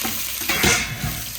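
Sliced onions sizzle in hot oil with cumin seeds while being stirred in a pan, a steady crackling hiss broken by scraping stir strokes, close and alone.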